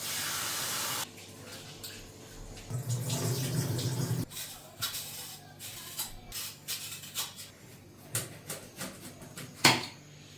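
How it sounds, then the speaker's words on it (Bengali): Rice is washed by hand in water in a home kitchen, close splashing and swishing with intermittent sloshes and a few sharp clatters, quiet overall with no talk. "জলটা তখন ফুটুক ততক্ষণ চালটা তো তখন ধুয়ে নিই"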